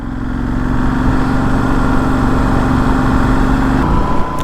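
A Benelli Leoncino Trail 800 motorcycle with a 752cc engine runs with a steady, loud mechanical drone and a humming tone, close by and without speech.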